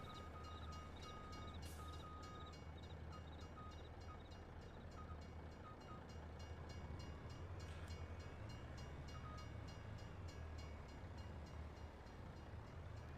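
A train rumbles steadily along its track in the video game Mars First Logistics, a continuous low mechanical drone with a faint tonal hum, moderately loud and without talk.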